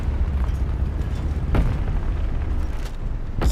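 A tank shell hits and explodes in War Thunder Mobile, with a Sherman IC Firefly and its long 76mm gun in play. A sustained rumbling boom carries two sharp blasts partway through, loud and close, with no voices.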